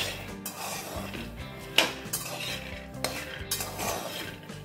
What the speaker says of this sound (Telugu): దాన్ని పెట్టుకొని స్పూన్తో పెట్టి ఇట్లా కలుపుతుండండి అంతే.